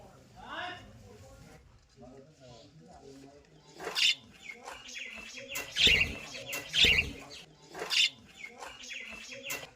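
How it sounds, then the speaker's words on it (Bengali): A cockatiel and several budgerigars chirp in a bird enclosure at a rural resort, with bright, repeated calls that grow busier and louder toward the end, while a person talks nearby. "এখানে একটা সুন্দর ককটেল রয়েছে আর কয়েকটা বদ্রি পাখি রয়েছে"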